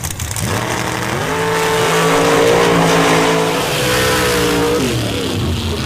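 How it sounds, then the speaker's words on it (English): Outlaw Pro Stock drag race cars launch down the track at an MRA championship round, a loud roaring engine climbing steeply through revs with gear-change dips, sustained and close for several seconds. "in the Outlaw Pro Stock Division, we'll see what these two guys have for each other as Brown looks to roll into the beams"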